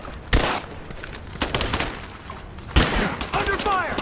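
Gunfire in Rise of the Tomb Raider, several sharp shots and a rattling volley amid combat noise, with a voice talking underneath.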